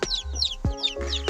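Young turkey poults and chicks in a brooder together, giving a quick series of high, close peeps and soft clucking calls in a short burst.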